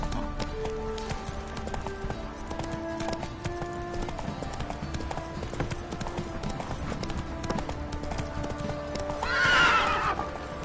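Horse galloping in The Witcher 3 video game, rapid rhythmic clip-clop hoofbeats running steadily throughout, with game ambience and a loud whinny near the end.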